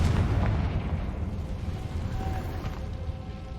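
Confringo blasting spell in Hogwarts Legacy gives a booming explosion with a deep rumbling tail that fades over a few seconds, heard alone.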